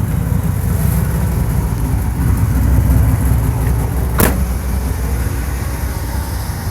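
A 1992 Cadillac Seville STS with a port fuel injected 4.9 liter pushrod V8 idles with the hood open, giving a steady, close low rumble and one brief sharp click partway through.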